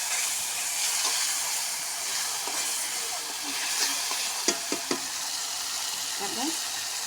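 Masala paste frying in oil for an okra and egg curry, a steady close sizzle and hiss with a few sharp stirring clicks near the end.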